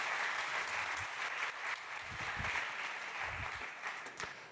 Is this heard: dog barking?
no